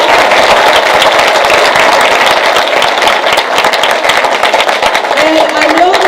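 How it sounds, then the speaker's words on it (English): Middle school students clapping loudly during a school celebration assembly, a dense continuous roar of hand claps throughout with crowd noise mixed in. "Give yourselves a round of applause."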